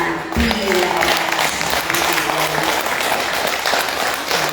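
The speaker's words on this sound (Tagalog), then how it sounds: "Magpuri sa Panginoong Diyos. Sa pamamagitan ng palakpak para sa Kanya." Church congregation clapping in praise during a Filipino Christian worship service; dense, continuous rhythmic clapping with faint voices and low instrumental tones underneath, loud and steady throughout.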